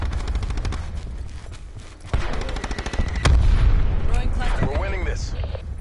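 Gunfire in Black Ops 4 multiplayer, a rapid run of sharp shots rattling close, then heavier booming reports, with voices and game announcer chatter over the firing.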